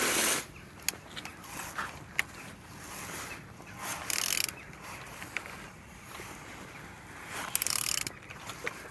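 An Opel A14XER engine is turned over slowly by hand, giving irregular mechanical clicks and ratcheting ticks with soft creaks between them, close but fairly quiet and with no talk.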